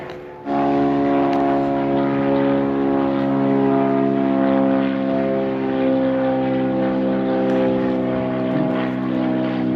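A propeller aircraft at a live airport beside an aviation museum drones steadily and loudly for nearly the whole stretch, its engine tone holding even and close with no talk over it.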